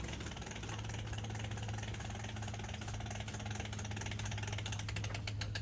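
A crank handle winds open a cantilever patio umbrella, giving a steady close ratcheting click that runs continuously for several seconds at low level.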